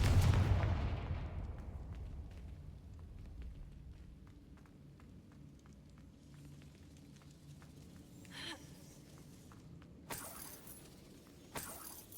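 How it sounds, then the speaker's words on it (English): In Hogwarts Legacy, a Confringo blasting spell goes off with a loud booming burst that fades over several seconds, followed by quieter footsteps and a couple of sharp impacts. "Confringo."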